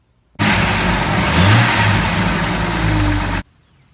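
A Jeep Cherokee engine, just fitted with a new valve cover, catches abruptly and runs loudly up close for about three seconds with a slight rev in the middle, then cuts off sharply.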